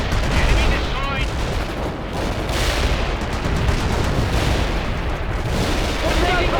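Mortar strike in the World in Conflict war game: a continuous, loud barrage of explosions and crackling gunfire fills the whole stretch, with clipped radio voices talking over the din.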